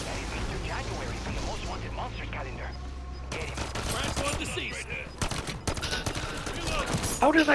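Rapid bursts of automatic gunfire and single shots crack through a Call of Duty match, loud and clustered, while a player talks over the action.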